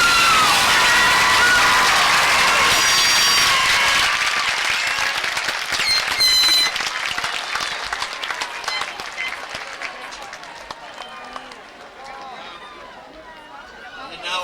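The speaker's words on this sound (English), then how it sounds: "Now let's give a round of applause to these outstanding graduates." A crowd at a 2004 graduation ceremony bursts into loud applause and cheering for the graduates. It starts strong, then gradually thins and fades, with voices mixed in.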